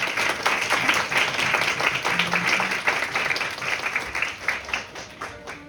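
Audience at a Korean model UN closing ceremony applauding the association president, sustained dense clapping that swells and fades slightly, close and fairly loud, with no speech over it.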